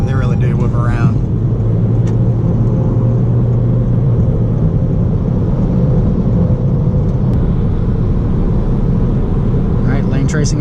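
A 2019 Toyota Corolla Hatchback XSE drives along with a steady, loud road and engine rumble that continues throughout, while a person talks over it.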